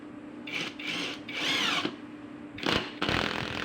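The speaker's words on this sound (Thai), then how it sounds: "ครับก็มาทดสอบด้วยน็อตสกูครับ ขนาดเอ่อสองนิ้วกับ สามนิ้วครึ่งนะครับ ยิงไม้ประดูครับเป็นไม้เนื้อแข็งค่อนข้างแข็งนะครับ" A cheap cordless impact driver drives two-inch and three-and-a-half-inch screws into hard padauk wood, giving several short whirring and rattling bursts close by, separated by brief pauses.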